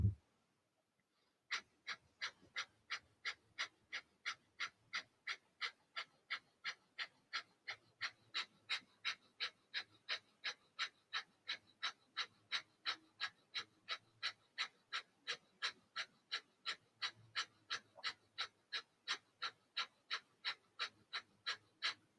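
Breath of fire yogic breathing: after a brief pause, a long run of rapid, evenly spaced sharp nasal exhales, about two per second, close and steady for some twenty seconds with no talking.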